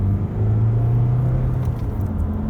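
A big car with a 1.6 engine accelerating in second gear, a steady loud engine drone and road rumble from inside the cabin, the engine note holding, then rising slightly.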